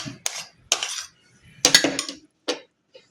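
Utensils stirring tanigue fish kilawin in a bowl: five or six separate metallic clinks and scrapes come close up, spaced irregularly, with quiet gaps between them.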